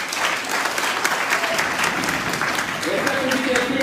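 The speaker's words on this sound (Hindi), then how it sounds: "तालियां बजाने के लिए" A crowd at a Marian convention in a Catholic church claps steadily and fairly loud, with speech and a held tone audible alongside the applause.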